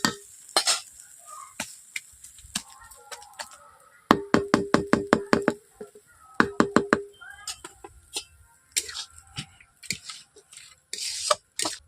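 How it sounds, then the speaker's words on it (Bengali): Boiled potatoes mashed in a pan for a village-style bread chop: close, clattering knocks and scrapes, with two quick rhythmic bursts of rapid tapping in the middle and looser scraping stirs around them. "এরপর আরো একটু আমি ম্যাশ করে নিচ্ছি"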